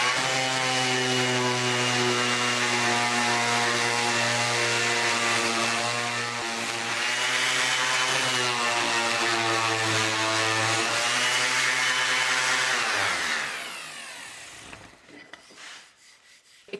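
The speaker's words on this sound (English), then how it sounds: "let's go over and sand it off and see how easy that is" A power sander with 80 grit paper grinds across laser-engraved wood in a loud, steady whine with a strong droning hum that wavers as pressure shifts, then spins down and stops near the end.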